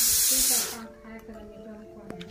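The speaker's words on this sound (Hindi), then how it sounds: "दाल सीटी दे रहा है, अभी कितना देगा जी?" A pressure cooker cooking dal lets out a loud hissing steam whistle that lasts under a second and cuts off abruptly, followed by voices talking nearby in a home kitchen.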